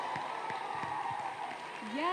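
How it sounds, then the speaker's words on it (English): Audience applause at an international conference on family planning, a steady wash of clapping from a crowd with a voice speaking over it near the end. "That deserves another round of applause"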